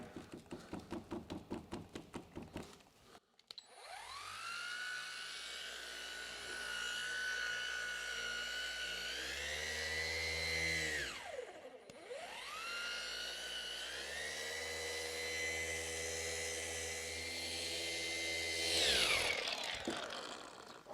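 A rotary car polisher buffs painted bodywork along a panel edge, a loud, steady high-pitched whine that sags and recovers midway through, running alone after a brief rattle at the start.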